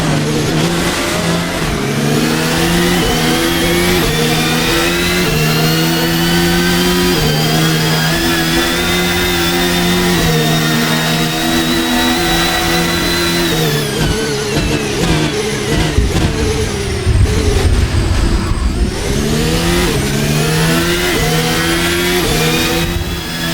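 Formula 1 cars race at Bahrain, including Leclerc's Ferrari and a Mercedes, loud high-revving engines screaming with rising and falling pitch sweeps and gear changes, one car passing close and dominating throughout.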